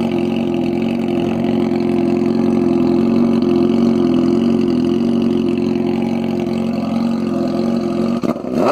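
A Honda CBR 600F motorcycle with a straight-pipe exhaust, recorded beside a track. Its engine gives a loud, close, steady throaty drone that holds without a break for about eight seconds.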